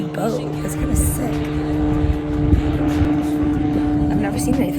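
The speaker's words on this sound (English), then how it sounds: "Oh, look at this little jet ski boat." A small jet ski boat on a Muskoka lake drones steadily nearby with a buzzing engine tone, under wind and ambient outdoor noise.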